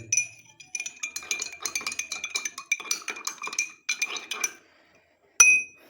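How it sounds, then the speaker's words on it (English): Teaspoon stirring hydrogen peroxide solution in a glass, quick rhythmic ringing clinks against the glass for about four seconds, then a pause and one final sharp clink, close and clear. "And now take the teaspoon and stir it well."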